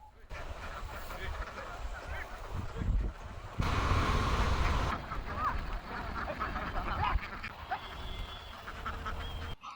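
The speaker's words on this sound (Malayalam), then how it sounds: "അവിടെ ഒരു കുട്ടി താറാവുകൾ ഓടിച്ച് കളിക്കുന്നുണ്ട് കേട്ടോ" Ducks quack in scattered bursts outdoors, partly masked by steady wind rumble and some background voices.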